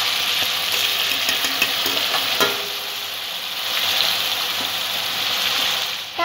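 Onion frying in a pan with ginger-garlic paste for a Malai Rui rohu fish curry gives a steady, close sizzle, with a few soft stirring scrapes and clicks over the hiss.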